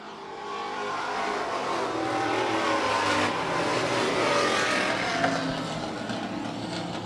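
Super Street race cars thunder toward the checkered flag at the Market 27 short track, a dense, sustained engine roar swelling and fading slightly as the field passes, with no talk over it.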